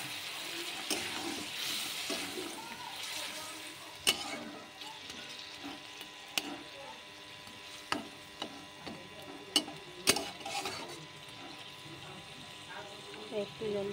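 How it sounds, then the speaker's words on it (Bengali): Potato curry stirred in a pan over heat, with a soft sizzle, repeated sharp scraping clicks of the spoon and a splash of water added, close by under a steady background hiss. "এবার এটা একটু নেড়ে নেড়ে একটু জল দিয়ে দেবো"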